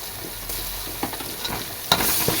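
Green chilies and ginger-garlic paste fry and get stirred in a pan for a white biryani, giving a soft steady sizzle with a few light scraping clicks and one sharper clatter near the end.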